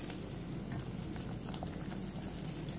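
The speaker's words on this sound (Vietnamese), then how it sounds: "mình nấu độ vài phút để cho cái rau ngót này nó nhừ ra" Japanese katuk vegetable soup simmering in an uncovered pot, a steady bubbling and gentle rolling boil with soft popping, continuous and close, with no voices.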